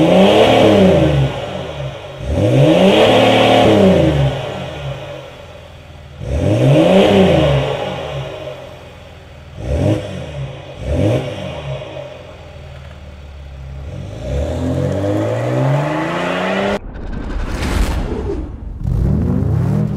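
A Mercedes ML diesel revs hard through its exhaust in repeated surges, climbing and falling several times, with steady idling clatter between bursts and a final sharp rev at the end; loud and close, no talk.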